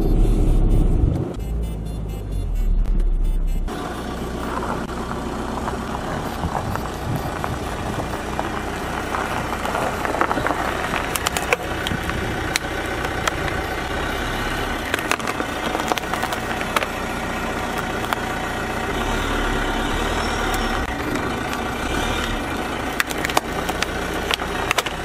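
A car engine runs steadily while the vehicle reverses slowly, with tire crunch and occasional knocks over a continuous low rumble.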